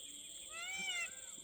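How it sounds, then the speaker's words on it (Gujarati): A peacock near a farm field of ripe crops gives a single faint, drawn-out wailing call that rises and falls, heard from a distance over quiet background. "આ મોરનો અવાજ"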